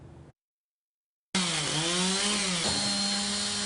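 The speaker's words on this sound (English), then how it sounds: "Using chainsaws and a loader, crews cleared a massive tree that crashed onto a Granada Hills home" Chainsaws cut up a massive tree that fell onto a Granada Hills home in strong winds, a loud, steady, close engine whine that starts suddenly after a brief gap and dips as the blade bites, with no talk.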